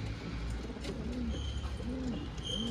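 A pigeon coos close by, several soft rolling calls repeating in a steady rhythm over a constant low background hum.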